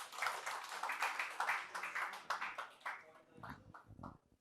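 Classroom clapping for a student in a current affairs class, a brief burst of hand claps mixed with voices, tapering off toward the end.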